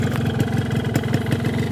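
A warmed-up two-stroke motorcycle engine fitted with an Ultraline racing exhaust runs close by with a steady, fast-pulsing burble at idle for a couple of seconds, with no voices.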